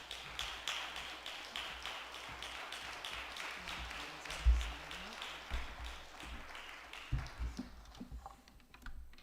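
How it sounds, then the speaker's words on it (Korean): A church congregation at a Sunday morning worship service claps to welcome a university president. The patter of hands is thin and scattered and trails off near the end. "박수 쳐주셔서 감사합니다"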